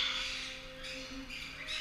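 A pet bird squawks repeatedly in a steady, fairly loud run of harsh calls, close by, while a faint background hum sits underneath.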